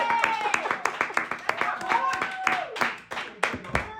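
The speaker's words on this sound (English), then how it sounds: "Can we clap it up for you" A small audience on a hot-sauce challenge show claps in scattered, uneven bursts, with a voice talking over much of it.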